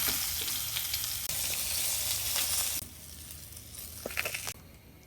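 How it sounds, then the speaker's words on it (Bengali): Spiced fish fries in oil in a pan, a close, loud, crackling sizzle that drops away halfway through, then turns quieter with a few scraping stirs. "মাছ ভাজা আমার হয়ে গেছে, এখন উঠাই নেব।"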